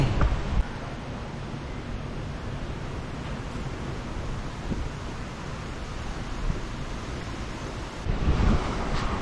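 Sea waves break steadily on a beach at a campsite, a continuous washing rumble with wind noise across the microphone and a louder surge near the end.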